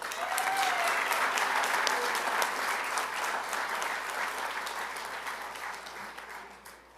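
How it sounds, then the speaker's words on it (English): A graduation crowd at a college prep school applauds a student speaker, with loud sustained clapping from many hands across a large hall that fades slightly toward the end. "Please give a warm round of applause for Thibaut Chardonnans."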